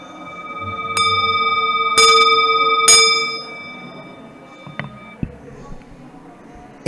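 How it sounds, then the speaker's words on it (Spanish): Temple bells ring out in a few loud, bright strikes with long sustained ringing tones that fade away, followed by softer scattered knocks and rustles. "Esas campanadas sonaban nada más y nada menos que en el templo."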